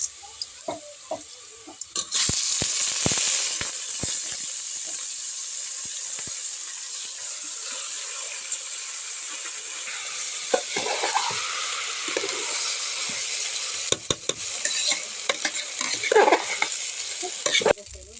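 Washed rice is stirred and roasted in a pan with browned onions, giving a continuous soft sizzle with scraping and clattering stirring strokes, louder bursts near the start and toward the end.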